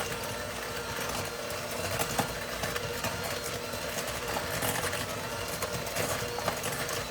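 An electric mixer creams butter for cookie dough, its motor whirring in a steady, dense drone with a faint rattling texture, close and constant throughout with no voices.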